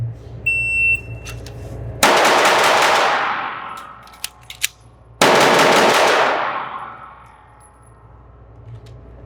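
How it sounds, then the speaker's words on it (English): A handgun fires two rapid strings of shots in a five-shot reload drill. A shot-timer beep comes first, then a sharp volley with a ringing tail, a pause filled with small metallic reload clicks, and a second loud volley that fades out. "So I've got 5 total in the gun. I'm gonna do 5, reload 5."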